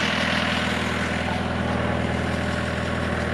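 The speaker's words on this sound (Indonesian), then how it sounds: "Ya, ini mesinnya jalan ya, kedengaran suaranya bergening keras kayak gini." A small boat engine runs loudly and steadily in a flooded village at night, a constant close rumbling drone with no talk over it.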